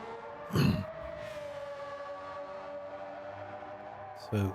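Tires on an orange McLaren-style open-wheel race car in a racing video game let out a steady, sustained tonal squeal at moderate level, with short louder bursts near the start and end.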